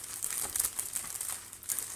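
A small bag crinkles as a folded piece is slipped inside while setting up seeds to sprout, producing faint, close, irregular rustles and crackles over two seconds.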